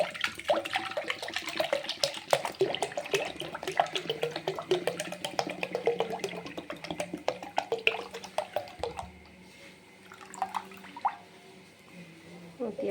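Milk is poured into a vessel in a home kitchen, giving a continuous soft splashing, trickling stream. It is close and fairly quiet and fades to occasional drips near the end.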